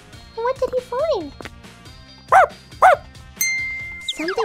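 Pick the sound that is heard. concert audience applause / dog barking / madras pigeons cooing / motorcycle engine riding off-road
dog barking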